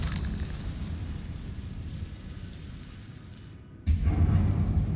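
A Confringo blasting spell explosion in Hogwarts Legacy: a long rumbling roar that fades slowly, then a sudden heavy boom near the end, loud and close with no talking.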